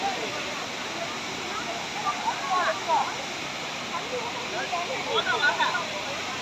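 Steady rushing roar of a waterfall in the Thirumoorthi hills, a constant broadband wash with voices calling and chattering faintly over it.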